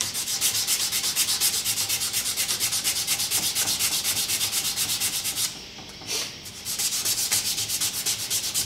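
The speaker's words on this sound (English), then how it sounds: "hand rubbed satin finish on the blade of the axe" A hatchet blade is hand rubbed to a satin finish with an abrasive, making a loud rhythmic back-and-forth rasp of even strokes that pauses briefly near the end and then resumes.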